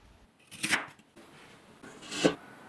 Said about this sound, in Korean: 연근을 얇게 썰어준다.